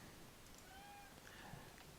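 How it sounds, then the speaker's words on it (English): A house cat gives a couple of short, faint meows, distant and quiet against a low background hiss, with no talking. "you just heard my cat right then"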